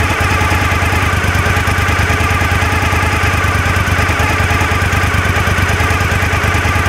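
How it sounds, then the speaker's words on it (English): Suzuki SV1000 motorcycle engine idling steadily on its own, a loud, close, even low throb with a fast regular pulse and no talk. "So the voltage on the battery slowly goes up as the motorcycle puts charge into it."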